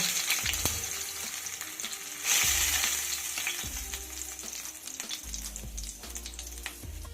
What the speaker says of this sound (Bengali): একইভাবে আমি বাকি মাছগুলো ভেজে নেব